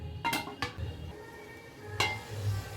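A spoon stirs carrot halwa with melted sugar in a pan, giving a few sharp metallic scrapes and knocks against the pan spread over a quiet kitchen background.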